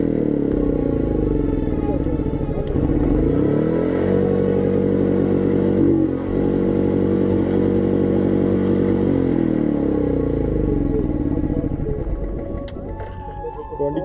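A motorcycle engine runs steadily in gear with a loud, continuous throbbing drone close by, easing off and quieting toward the very end.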